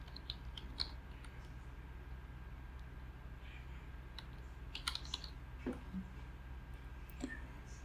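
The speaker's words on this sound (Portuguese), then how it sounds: "Vou escrever o e-mail aqui mesmo." Soft, irregular clicks of someone typing an email address on a computer keyboard, faint and close against a quiet room hum, with scattered keystrokes and a few slightly louder taps.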